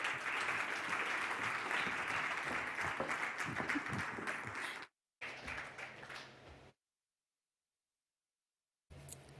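A conference crowd at a Botswana business roadshow gives a loud, dense round of applause as a speaker walks to the stage, sustained for several seconds before cutting out abruptly, followed by a short quieter burst and then silence.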